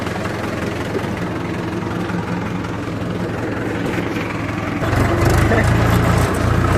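A heavy tractor engine rumbles steadily at close range, growing louder and deeper partway through as it revs up.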